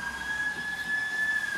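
A distant emergency vehicle siren holds a steady, high wail that stays faint and even for under two seconds over a soft outdoor background, with no one talking.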